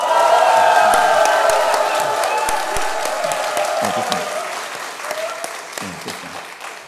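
A church audience at a Genesis lecture shouts and cheers, then keeps up loud sustained applause, a dense crowd roar with clapping that gradually fades over about seven seconds.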